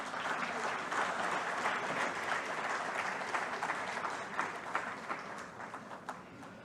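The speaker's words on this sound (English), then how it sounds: "Ladies and gentlemen, a round of applause" A large conference audience at the Hindustan Times Leadership Summit applauds after Brian Lara and Sachin Tendulkar, a sustained wash of many hands clapping at moderate distance that gradually thins toward the end, with no speech.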